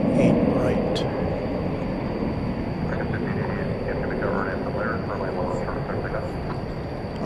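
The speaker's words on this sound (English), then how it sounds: "Qantas Flight 8 going to take off on 18 right" Qantas Flight 8 takes off at night from runway 18 right at DFW Airport, heard as a steady, broad jet roar that holds at an even level throughout.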